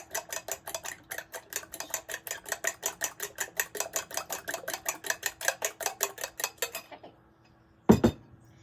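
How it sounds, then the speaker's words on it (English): Eggs being whisked by hand with a whisk or fork in a bowl, a quick steady run of clinking taps for about seven seconds, close and clear, then a pause and one last knock. "And you want to whisk, you can use a whisk or a fork"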